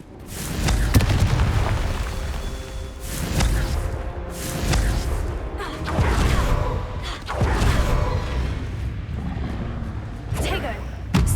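Repeated Confringo fire-blast spells in Hogwarts Legacy, a series of booming explosions with whooshes and rumbling debris, loud and close, with spoken game dialogue in between.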